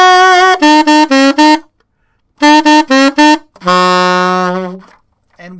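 A saxophone plays a minor blues riff in short phrases of repeated notes, pausing between them, ending on a long sustained low note; clear and close, no talking.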